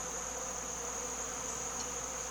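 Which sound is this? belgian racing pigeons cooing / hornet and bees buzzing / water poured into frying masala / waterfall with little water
hornet and bees buzzing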